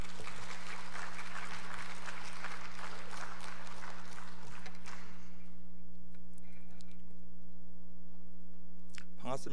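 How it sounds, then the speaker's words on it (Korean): A church congregation at a Wednesday worship service applauds in welcome for a pastor, the dense clapping filling the first half before fading out over a steady mains hum. "우리 환영하는 마음으로 박수 한번 치겠습니다."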